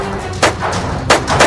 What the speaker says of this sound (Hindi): अपने सर्विस रिवॉल्वर से गोलियां चलाता है